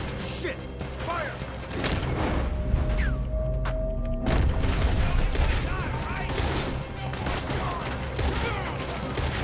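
Heavy gunfire in Red Dead Redemption 2 crackles almost nonstop as a close, loud fusillade of overlapping shots and bangs, mixed with game noise.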